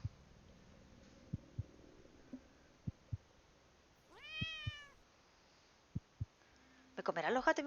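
Cats meowing in the video game The Cat Lady, one clear drawn-out meow mid-clip and a louder burst of meows at the end, over faint hum with soft rhythmic thumps like a heartbeat.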